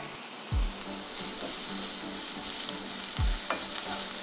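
Sliced green chillies hit hot oil in a pan while making a Spanish omelette, giving a steady sizzling hiss with two sharp utensil clatters against the pan.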